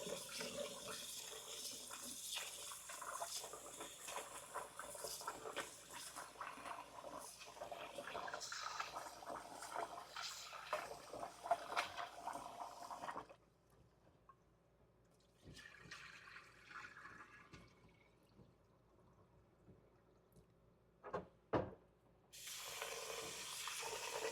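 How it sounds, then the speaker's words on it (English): Four cups of rice are washed in water, with steady running and sloshing water for about thirteen seconds, then a quieter stretch of brief splashes and clinks before the water flow returns. "I have 4 cups of rice here that I am washing to put on."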